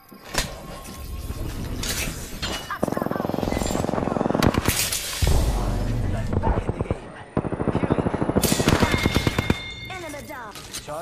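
Rapid bursts of automatic gunfire and sharp shots in an Apex Legends match, loud and repeated throughout, mixed with explosions, game effects and players talking over the fight.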